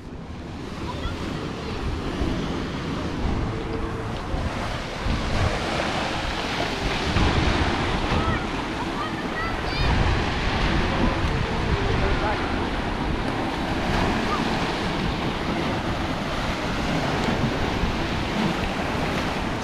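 Ocean surf rolling onto a beach where bodyboarders are out in the swell, a steady loud wash of breaking waves mixed with gusty wind buffeting the microphone throughout.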